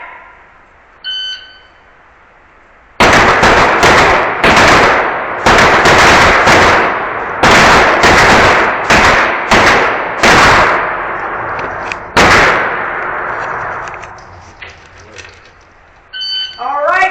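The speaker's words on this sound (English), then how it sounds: "We have 5 shots, 15 seconds at 45 feet." Glock pistols fired at an indoor sport shooting event, a quick string of loud, sharp shots in close succession with echoing reverberation in the hall, following a brief quiet stretch and a short electronic tone.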